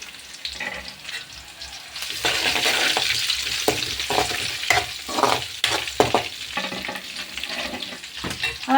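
Curry leaves and freshly crushed ginger-garlic frying in a pan give a steady crackling sizzle, close and moderately loud, with occasional stirring scrapes and louder bursts of spitting oil.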